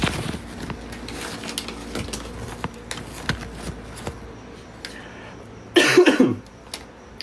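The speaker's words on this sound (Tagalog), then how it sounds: "Inuubo pa rin tayo." A single loud cough bursts out near the end after a stretch of quiet rustling and faint background noise.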